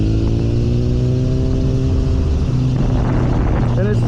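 A BMW S1000R motorcycle runs through a turn, its engine a loud, steady whir heard close from the rider's position with wind rush, rising slightly near the end.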